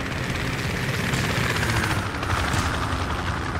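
A helicopter in the military shooter game Project Reality keeps up a steady, dense rotor and engine roar that fills the whole stretch, loud and unbroken, with no talk over it.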